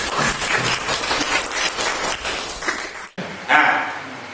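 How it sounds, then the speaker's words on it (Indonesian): A classroom of students claps together in an Indonesian language lesson, a busy patter of hands for about three seconds before a sharp cut to a shorter, brighter burst of clapping. "Tepuk tangan untuk semuanya."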